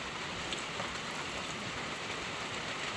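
Steady rain falls on potted garden plants, a dense, even patter of drops hissing continuously and close by with no voices.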